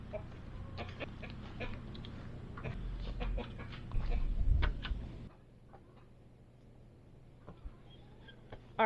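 Free-range hens clucking on a farm, soft scattered calls at moderate distance over a low steady hum, with a louder stretch midway before the background drops and a few quieter clucks follow.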